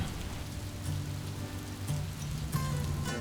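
Heavy rain pouring down at Big Bend, Texas, a dense steady hiss of drops on surfaces with occasional louder splatters, close and continuous.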